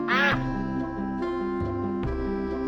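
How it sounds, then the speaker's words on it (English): Ducks quack in a few loud, nasal calls, the first burst strongest, over a backdrop of simple children's counting music with no voice. "3 ducks,"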